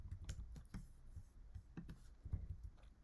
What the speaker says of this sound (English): Sorry, too much clicking.